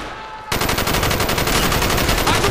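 Sustained automatic gunfire from a Call of Duty: Black Ops campaign battle bursts in abruptly after a brief quiet moment, a dense, loud stream of rapid shots with no pause.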